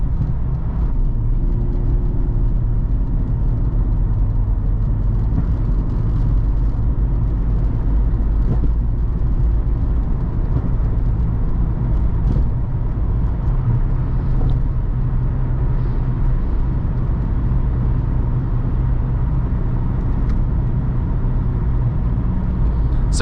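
A 1997 Jeep XJ Cherokee driving, its engine a steady low rumble with road noise throughout, rising slightly under throttle, close and continuous with no talking.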